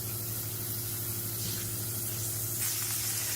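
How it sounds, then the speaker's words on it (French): Butter sizzling in a heavy-bottomed frying pan, a steady, close hiss and crackle that lasts throughout with a faint hum underneath. "je vais mettre un peu de beurre"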